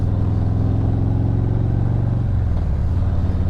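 A 2018 Harley-Davidson Street Glide Special engine drones and revs unevenly as the clutch slips, with a steady loud rumble throughout and no talking.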